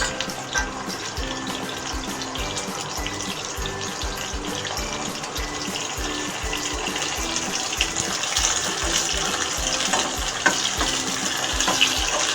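Sliced okra fries in a generous amount of hot oil, a steady crackling sizzle with scattered pops, close and moderately loud.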